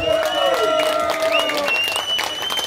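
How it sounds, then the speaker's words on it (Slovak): Applause from a rock concert audience, a dense steady clapping that fills the space close and loud, with a voice speaking over it. "tak teda všetci veľký potlesk"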